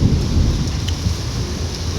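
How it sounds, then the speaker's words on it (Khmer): Steady rain pours with a rolling rumble of thunder underneath, a dense, loud wash of drops filling the whole two seconds without any voices. "10ម៉ោង11អីភ្លៀងហើយ"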